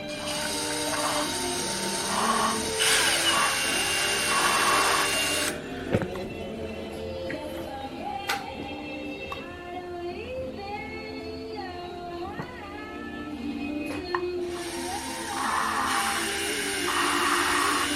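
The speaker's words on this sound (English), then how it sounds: "You can hear it grinding away all that uneven surface." Engine valves in a Honda B20V/GSR cylinder head are lapped to grind down an uneven seat surface, giving a close, steady rasping hum with shifting tonal squeals that drops off briefly midway before resuming.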